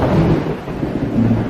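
Thunder rumbles loudly with rain noise in an animated children's story about a fish and an earthworm, a brief deep continuous roll with no speech.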